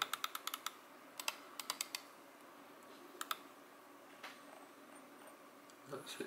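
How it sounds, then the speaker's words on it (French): Crisp, quiet clicks from a Roccat Kone Pro computer mouse come in quick clusters of two to five, then thin out into a few softer taps over a low background hiss. "Voilà la souris, donc écoutez un peu le bruit."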